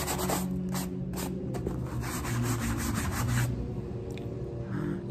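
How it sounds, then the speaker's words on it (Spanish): Stiff clothes-scrubbing brush rubbed back and forth over a dirty, misshapen cap, a steady close-up scratchy scrubbing that runs continuously throughout. "La estoy limpiando con este cepillo"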